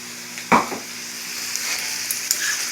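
Frozen vegetables tipped into a pan of frying hamburger and cooked-down onions give one loud clattering burst, then a steady sizzle continues alone.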